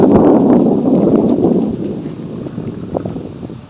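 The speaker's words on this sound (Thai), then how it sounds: "ลมพัดไวๆนะครับมา" Strong wind blows outdoors at dusk and buffets the microphone in loud low rumbling gusts. The gusts are strongest at first and ease into softer, uneven bursts toward the end.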